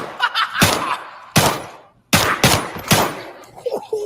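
Several loud, sharp gunshots from a video game, each a broadband crack with a short tail, fired in a quick irregular burst with a brief pause midway, followed by a faint tone.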